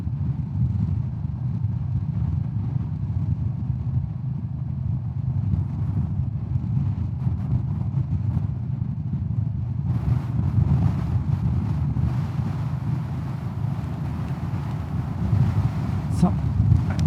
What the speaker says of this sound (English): I will ride a little bit faster now when I'm out of this town here, just to see how the wind buffeting on the helmet is.